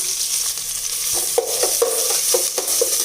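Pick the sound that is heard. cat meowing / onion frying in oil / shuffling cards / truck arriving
onion frying in oil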